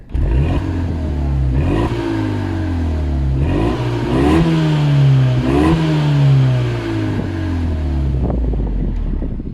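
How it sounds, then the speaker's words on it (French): A Renault Megane 3 RS Trophy 265 in normal mode, its engine revving up repeatedly through gears, each climb in pitch cut by a shift, loud and close with some wind noise. "je vais vous faire écouter le son de la voiture. Alors déjà, je vais me mettre en mode normal pour voir."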